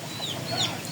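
Native Bangladeshi desi chickens in a village setting, soft close clucking and brief high calls over a steady background hum, lasting about a second.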